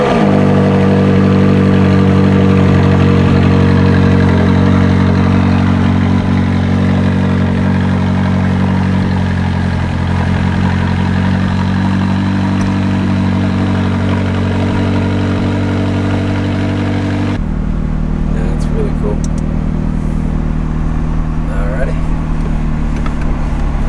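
A McLaren 600LT engine runs steadily on a test drive, a loud continuous drone with strong low harmonics throughout, shifting in tone partway through as people talk over it.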